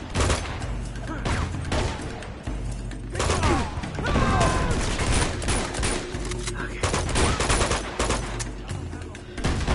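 Gunfire from the Uncharted 2 video game comes as rapid bursts of automatic shots with thuds and mechanical clatter, dense and loud, with a voice talking over part of it.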